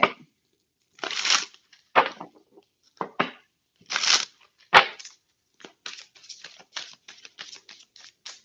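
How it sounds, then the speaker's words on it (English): Tarot cards being shuffled by hand, with a series of short, crisp riffling and slapping bursts, sparse at first and then quicker in a rapid patter, close and fairly quiet with no talk. "I'm just going to shuffle."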